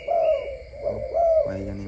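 Imported doves of a deep-cooing breed give a few low, rounded coos in close succession, close and clear with no talk over them.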